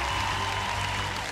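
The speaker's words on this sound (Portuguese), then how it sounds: "Um aplauso para a nossa banda." A studio audience on a televised singing-battle show gives a brief burst of loud applause for the band, dense clapping with a faint tonal hum running underneath.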